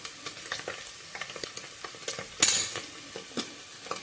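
Whole spices like shahjeera, cardamom, cloves and cinnamon hiss and crackle in hot oil, faint and close, with soft stirring clinks and one brief louder sizzle burst midway.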